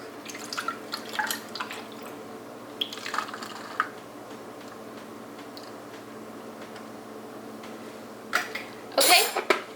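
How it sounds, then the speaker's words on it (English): Milk poured into a cup over ice for iced whipped coffee, heard as faint, scattered liquid trickles and drips in a quiet room, ending with a brief, louder splash. "now we're going to add the milk"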